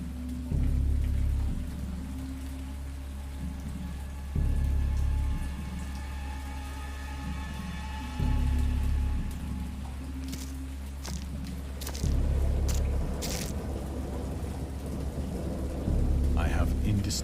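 Rain patters steadily in the Dagon video game, with low thunder rumbles and booms recurring every few seconds throughout.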